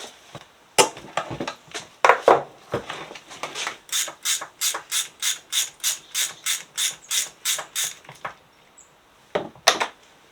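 Spanner ratcheting off a brake hose bolt on a Yamaha V-Max 1200, a quick run of about a dozen evenly spaced metallic clicks after a few scattered taps, close and clear.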